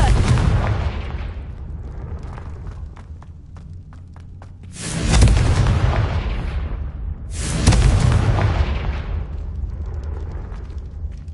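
Confringo spell blasts in Hogwarts Legacy, a video game: two deep booming explosions a few seconds apart over a continuous rumbling game soundscape.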